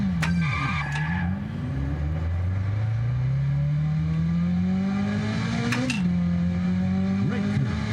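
Ferrari F355 engine in the F355 Challenge arcade racing game, revving steadily upward through long climbs with a few sharp gear-change drops, loud and continuous with faint game beeps on top.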